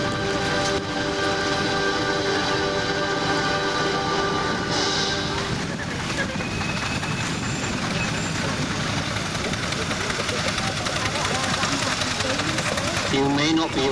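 A vintage steam engine runs at a steam rally, a steady dense mechanical chugging and hiss held loud throughout, with people talking over it.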